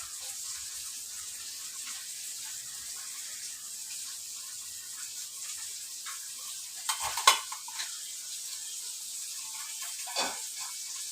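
Snake gourd fries in a pan with a soft, continuous sizzle, with occasional stirring scrapes and a couple of sharper clatters partway through.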